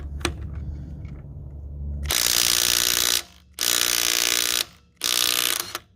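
Makita 18V Blue Edition sub-compact 1/2-inch impact wrench hammering on a lug nut, three loud rattling bursts of roughly one second each with short gaps, preceded by quieter mechanical clicks and a low hum.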